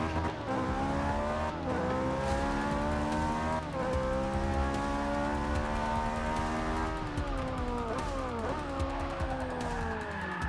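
Ferrari 458 Speciale V8 screaming through the gears around the Spa circuit in a racing game, with rising harmonic sweeps, sharp downshift blips and continuous loud engine roar throughout.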